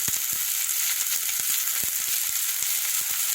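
Onions sizzling steadily in a hot pan for a Jamaican eggplant stir fry, a close, continuous crackling hiss broken by sharp spitting pops, heard on its own.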